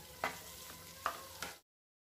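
Vegetables stirred and fried over medium heat for a sewaiya upma, a steady sizzle broken by three sharp scraping stirs of a spoon against the pan, close and moderately loud, with no talking.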